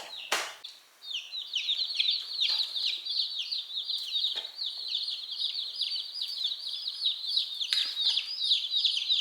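Young chicks for a laying flock peeping continuously in a cage, a dense chorus of high chirps with a few sharp knocks and rustles, close and steady.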